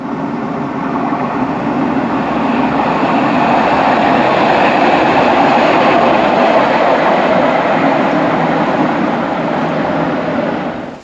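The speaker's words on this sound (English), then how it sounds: "And here comes our train." The Cairngorm Mountain Railway train arriving near Aviemore: a loud, steady rumble and rushing roar lasting throughout with no distinct clatter, holding level before dropping away sharply at the end, no talking.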